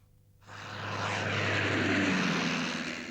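A WWI biplane fighter with a rotary engine roars in after a brief quiet start, its propeller drone swelling quickly and holding loud and close, steady and unbroken, with no talk over it.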